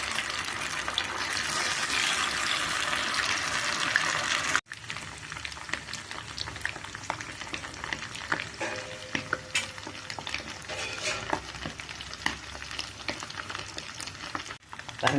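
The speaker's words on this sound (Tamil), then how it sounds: "கொஞ்சம் கொஞ்சமாக எடுத்து எண்ணெயில் போட்டுடலாம்." Anchovies fry in hot oil with a steady bubbling sizzle, close and fairly quiet, with a short break partway through and faint stirring clatter afterward.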